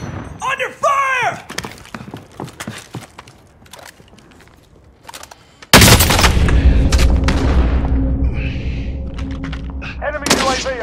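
Warzone battle royale gunfire: scattered sharp shots and thuds with footsteps early on, then a sudden loud sustained blast of fire and rumbling boom that carries on, with a brief voice near the end.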